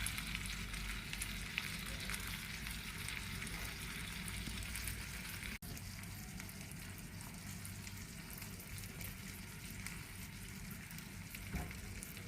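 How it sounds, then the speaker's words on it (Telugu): An egg with cheese for a breakfast cheese egg fry sizzles and fries steadily in a pan, close and constant, with faint stirring or scraping and no talk. "ఇప్పుడు గుడ్డు పగలు కొట్టుకుని వేసుకుందామండి"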